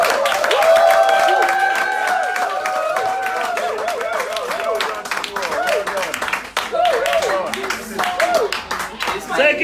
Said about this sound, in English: could you all please clap for yourselves?